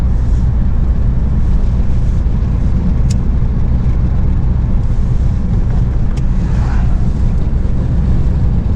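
Interior of a Ford Focus driving on a country road with a window cracked, a loud steady low engine and road rumble mixed with wind buffeting, no talking.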